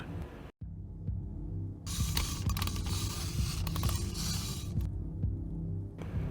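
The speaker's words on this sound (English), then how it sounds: "And for Lefty, it's a mechanical whirring sound." Mechanical whirring cue for Lefty in the horror video game FNAF 6: a sustained, droning whir with a faint rhythmic throb underneath, swelling in the middle and fading, heard alone without voices.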